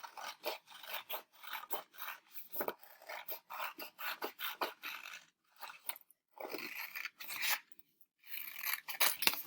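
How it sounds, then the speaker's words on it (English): Scissors cut paper along a dotted line to make a paper crown, a quick series of crisp rasping snips close up, with brief pauses between bursts and no talking. "I'm cutting on the dotted line."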